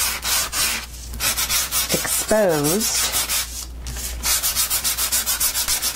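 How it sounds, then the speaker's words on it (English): A sanding block scrubs across colored cardstock in rapid back-and-forth rubbing strokes, a close, rhythmic scratchy rasp that continues steadily, with a brief voice fragment partway through. "when you hit it with the sanding block."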